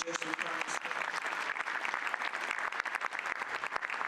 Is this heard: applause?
yes